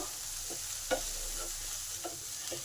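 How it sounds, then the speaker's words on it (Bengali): Boiled chana dal with chopped carrot and green beans frying in a pan, a steady soft sizzle with a few light scrapes and stirring clinks spread through, no one talking. "তার সাথে ছলার ডাল সেদ্ধটাও দিয়ে দিলাম এগুলো একটু ভালো করে ভেজে নেব"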